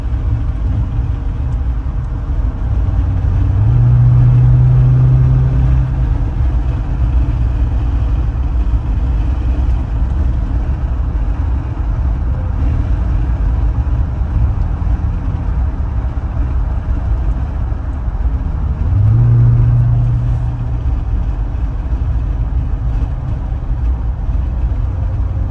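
A Dodge Challenger Hellcat Redeye drives along with a deep, steady engine rumble filling the whole stretch, swelling briefly twice into a louder low drone before settling back, heard from inside with no talking.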